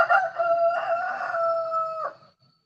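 A rooster crows once, close and loud, in a drawn-out call that ends in a brief falling tail and then silence.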